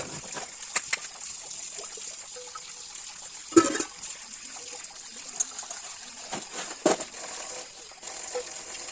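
Running water trickles and splashes steadily as dishes are washed by hand, with occasional sharp clinks and knocks of utensils against one another.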